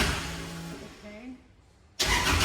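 A race car engine at Owosso Speedway idles with a steady hum, drops low and quiet, then suddenly roars into a loud, harsh rev as the throttle opens.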